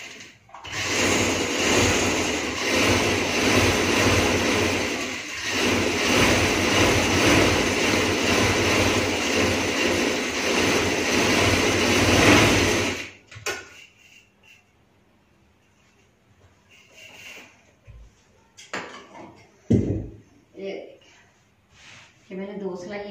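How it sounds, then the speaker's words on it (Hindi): A sewing machine stitching the hem band of a trouser leg runs steadily and loudly for about thirteen seconds with a fast rhythmic clatter, then stops, leaving soft handling noises and someone speaking. "मैंने दो सिलाई इधर से लगा दी, इधर से भी मैंने दो लगा दी।"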